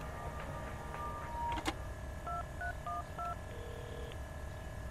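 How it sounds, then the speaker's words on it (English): Telephone keypad tones beep in a short dialing sequence inside the Prison Break The Conspiracy video game, a series of distinct electronic beeps over a quiet background with a brief click midway. "I gotta make a phone call."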